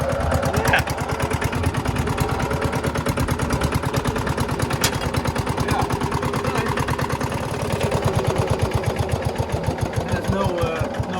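An unmuffled engine aboard the sailing ship Prinses Mia runs steadily with a fast, loud, even throb that carries throughout, and people talk over it now and then.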